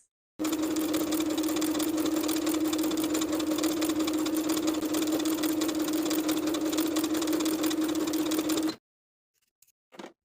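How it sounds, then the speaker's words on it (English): A sewing machine top stitches lace onto a finished fabric edge for a sleep set, running steadily and loud for about eight seconds, then stopping, with a couple of faint handling clicks afterward. "top stitch in place all the way around"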